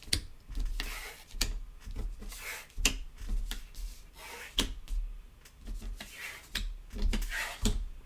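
Tarot cards are shuffled close by in an irregular series of crisp slaps and riffling flicks, with soft rustles between the sharper snaps and no talking.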